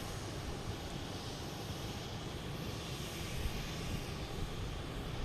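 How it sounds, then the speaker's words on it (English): A JetBlue Airbus A321 arriving from San Diego at Boston Logan Airport gives a faint, distant, steady engine rumble with broad wind-like noise and no clear rise or fall. "Next to come in is JetBlue coming in from San Diego in A321"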